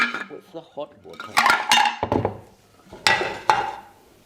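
Stone weights clatter and clink inside a ceramic sauerkraut fermentation crock as it is handled: a few sharp, close knocks and rattles with faint voices in between.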